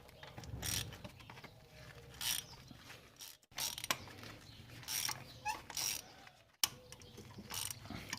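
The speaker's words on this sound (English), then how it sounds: "So get a spark plug socket and let's go ahead and remove those." A ratchet with a magnetic spark plug socket clicks rapidly while spark plugs come out of a 2003-2006 Kia Sorento engine, in close repeated bursts of ratcheting with brief pauses and metallic clunks between them.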